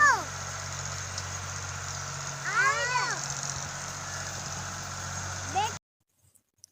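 A tractor engine idles steadily in a village field, a constant low mechanical drone with voices speaking briefly over it before cutting to silence.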